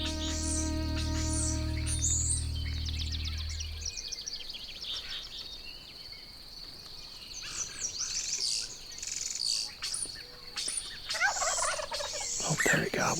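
A wild turkey gobbler gobbles from the woods at a moderate distance, one short rattling call among chirping birds, after a loud low hum that cuts off early.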